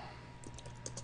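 Typing on a computer keyboard while writing code, a quick run of light, close key clicks over quiet background hum.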